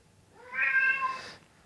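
A single cat meows in an animal hospital cat room, one clear drawn-out call lasting about a second, close and alone.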